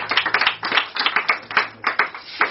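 A church congregation claps in acclamation during worship, with loud, quick, rhythmic handclaps from many people continuing steadily throughout.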